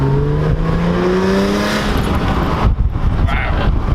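A 2011 Audi S4 with a six-speed manual revs up to 3,500 RPM with a rising tone as it accelerates, then the roar fades into rushing road and wind noise, heard from inside.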